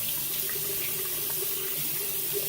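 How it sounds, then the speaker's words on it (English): Cold water runs from a bathroom sink tap while someone splashes it on their face, a steady close rushing and splashing with no talk. "I'm just going to throw some cold water in my face again"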